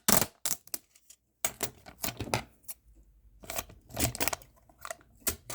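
Scissors cut through a folded sticky strip for DIY floating shelves, a series of close, crisp snips and clicks in quick bursts separated by brief quiet gaps.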